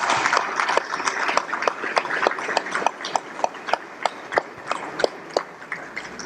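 An audience applauds at a forum after a professor's talk, the clapping steady and crowded with sharper individual claps standing out, no voices over it.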